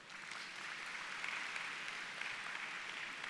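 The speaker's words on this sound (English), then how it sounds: "Let's give him a round of applause also" An audience at a high school ceremony gives a round of applause, a continuous bright patter of many hands clapping at moderate distance for a few seconds.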